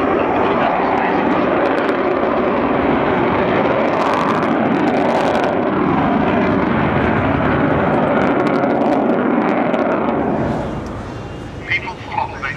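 A Vulcan bomber at a RIAT flying display gives a loud, sustained jet roar that fades near the end, while someone talks over it.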